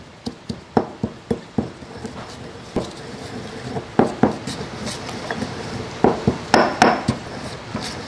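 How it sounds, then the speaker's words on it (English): Salt and spices pounded in a mortar and pestle for pickling, a run of sharp, close hard knocks in uneven bursts with brief pauses, loud and clear with no talk. "It's going to help you break down the rest of the spices as you smash them."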